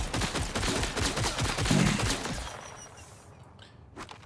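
A CoV gun in Borderlands 4 fires sustained rapid automatic fire, loud and rhythmic, then cuts off and fades out with a few faint clicks and shots near the end.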